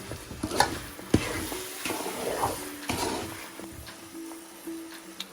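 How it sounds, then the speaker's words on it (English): Semolina halwa (suji) cooks in a pan as milk is added, stirred constantly with soft scraping strokes over a continuous gentle sizzle, close and steady, without talk. "Make sure you're constantly stirring it."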